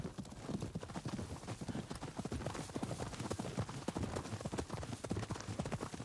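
Horse hooves from the video game Ghost of Yotei clip-clop in a brisk, steady rhythm, close and fairly loud over soft outdoor ambience.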